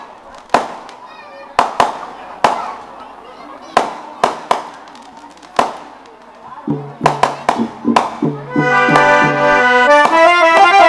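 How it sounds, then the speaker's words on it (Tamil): Firecrackers bursting repeatedly at a village drama performance of Valli's wedding, loud sharp bangs spaced irregularly, then coming faster as amplified music with singing starts underneath. "டப்பு டப்புன்னு வெடிச்சுக்கிட்டே இருக்கு."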